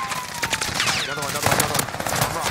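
Gunfire in a video game, rapid repeated shots rattling close over game sounds and a voice speaking in the background.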